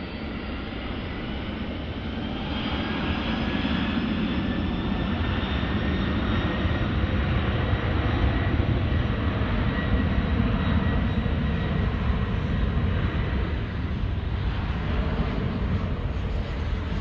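Jet airliner taking off at night at DFW Airport, a steady broad roar of engines building and sustained at a distance, with a faint rising whine, no voices.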